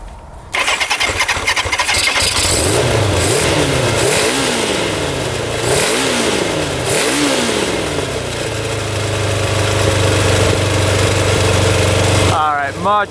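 Suzuki Quadzilla 750cc quad engine cranking in repeated rising starter pulses, then catching and settling into a loud, steady idle close by, with a short burst of revving at the end.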